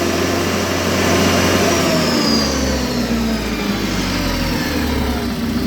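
Hyundai 2.5L diesel engine with faulty ECM grounds revving under acceleration, a loud, steady, close engine drone with slowly shifting pitch and no talk.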